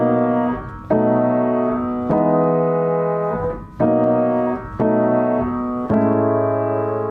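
Sustained keyboard chords voiced with added sevenths in a 1970s style, a sequence of about six changes struck at steady intervals, loud and clear with no talking.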